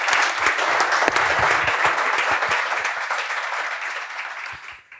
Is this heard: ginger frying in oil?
no